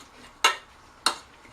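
Coleslaw being mixed in a bowl produces two sharp, close clinks or scrapes of a utensil against the bowl, spaced about half a second apart, over faint background noise with no talking.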